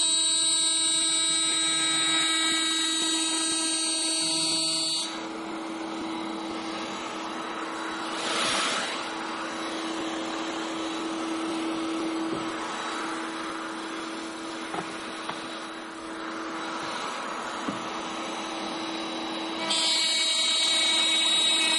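A hand router cutting a groove to take curved plywood, a steady high-pitched whine that becomes a louder, rougher cutting roar for about fifteen seconds and then returns to the lighter whine, close with no talk.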